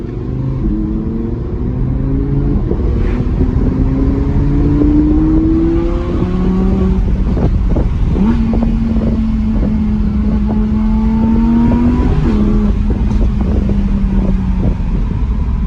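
An Audi R8 sports car with a roughly 610-horsepower engine pulls away and accelerates hard, its loud engine note climbing through repeated rising revs and gear changes over a constant heavy rumble heard from inside the car.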